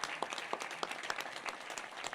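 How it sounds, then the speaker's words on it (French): An audience at a New Year's wishes ceremony applauds a new shopkeeper, giving a steady, moderately distant wash of clapping with individual claps popping out, no talk over it. "On l'applaudit bien fort pour sa belle vitrine"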